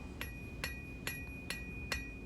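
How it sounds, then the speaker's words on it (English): Cross-peen hammer striking hot metal on an anvil while forging a split cross, five sharp ringing blows spaced about half a second apart over a low background hum. "use the cross-peen hammer to add some texture and spread out"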